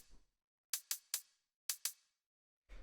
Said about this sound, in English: It's just a little closed hi-hat sound.